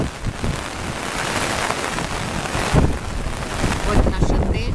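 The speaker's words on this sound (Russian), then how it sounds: "настоящий тропический дождь. Льет как из ведра в третьи сутки." Steady heavy tropical rain from a typhoon in Sanya Bay, Hainan, China, pours down with a dense, continuous wash and gusty wind rumbling against the microphone.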